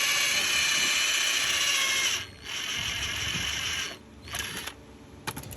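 A ratchet wrench loosens an 18mm nut on the rear shock of an Audi Q7, giving close, rapid clicking in two long bursts, then a few short ones, with no talk.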